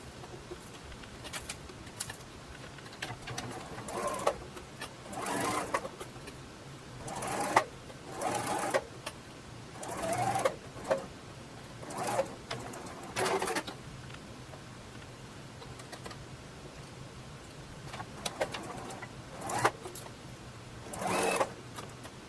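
A sewing machine stitches the side seams of a garment, running in a steady mechanical whir with repeated short surges and pauses, close by with no talking.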